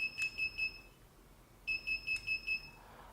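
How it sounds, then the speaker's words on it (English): X9 GSM alarm panel chime, two bursts of rapid, evenly spaced electronic beeps, clear and close, separated by a short quiet gap. "the alarm panel will make chime sound"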